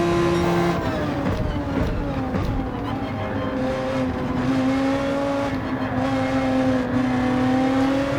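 An Audi R8 GT3 race car in Gran Turismo 7 holds a loud, continuous high-RPM engine drone, its pitch rising and shifting slightly as it revs along.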